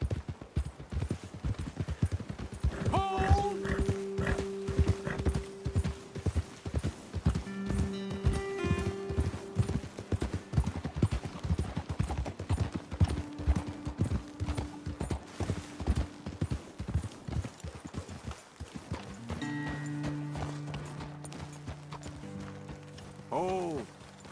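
Hooves clip-clop steadily at a trot in the video game Red Dead Redemption 2, close by, with occasional creaks and mechanical clicks; voices talk intermittently over the rhythm.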